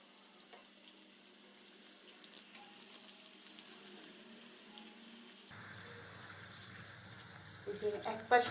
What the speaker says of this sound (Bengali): এবার আমি একটা একটা করে কচুরি ভেজে নেব